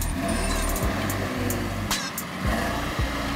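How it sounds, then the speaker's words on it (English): A drift car's engine runs rough while misfiring, a loud close roar broken by irregular stutters and dips over a few seconds, with faint tire noise and no talking. "First thing, the car is misfiring."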